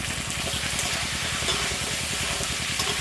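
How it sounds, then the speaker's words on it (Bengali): Kohlrabi and potato pieces fry in hot oil in a pan, giving a steady, even sizzle and hiss throughout, close up, with no talk. "বড়াগুলোরা তুলে নেব ওলকপি আর আলু এগুলো ভেজে নেব"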